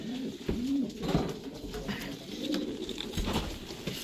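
A black English trumpeter pigeon cock coos close by, several soft rolling coos in a loose rhythm against a faint background rustle, no talking.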